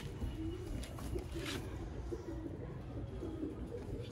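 Domestic pigeons kept by a fancier in Sialkot, Pakistan, including an old pair tended for decades, coo softly in repeated low phrases against steady background hum throughout.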